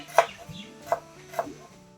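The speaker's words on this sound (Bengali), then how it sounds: "মণ্ডলবাবু আমাকে একটু পেঁয়াজ কেটে দিচ্ছে" A knife chops onions on a board, making three separate, fairly quiet thuds spaced roughly half a second apart against a soft background hum.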